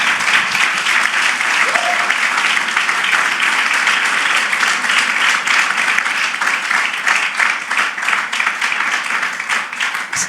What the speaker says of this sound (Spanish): Denle un aplauso a Dios, hombre. Lo merece.